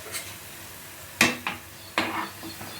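Suji (semolina) biscuits frying in hot oil as they are stirred, with a low bubbling hiss broken by several sharp scrapes and clinks of a utensil against the pan, and no voices.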